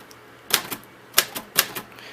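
Keys on a sticky 1940s Royal Quiet DeLuxe typewriter strike in three sharp, close clacks spaced apart, each trailed by a softer secondary knock, with quiet room between them.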